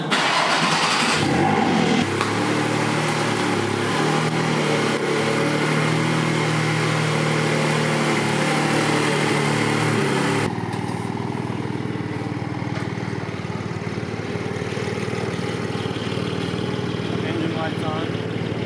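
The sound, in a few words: Porsche GT4 engine starting and idling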